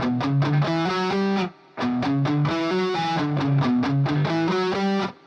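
Distorted electric guitar plays a fast repeating shred lick with hammer-ons and pull-offs, in two loud, steady runs of rapid notes separated by a brief pause.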